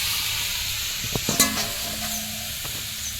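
Mixed vegetables fry in a pan with a steady sizzle, interrupted midway by a few clanks and scrapes of a utensil against the pan, with no speech.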